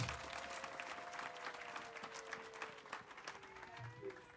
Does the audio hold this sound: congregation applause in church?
yes